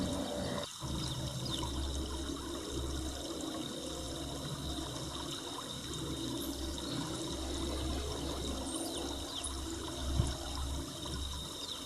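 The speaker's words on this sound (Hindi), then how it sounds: "कल कल करती हुई वह नदी अपनी ही मस्ती में बहती जा रही है।" River water rushes and gurgles in a steady, continuous flow, close and even in loudness throughout.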